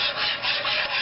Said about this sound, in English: just kind of whisk it around